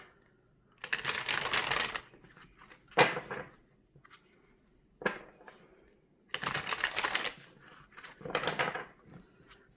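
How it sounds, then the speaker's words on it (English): Tarot cards are shuffled in several separate bursts of crisp riffling and flapping, some loud and close, with quiet pauses between and no talking. "I'm going to get these cards freshly shuffled for Pisces."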